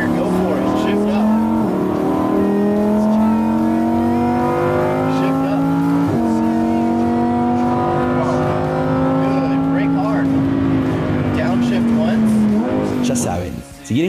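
Lamborghini accelerating hard on a Las Vegas race track, with the engine note climbing through rising revs and gear shifts, loud and close, over speech and some tire squeal.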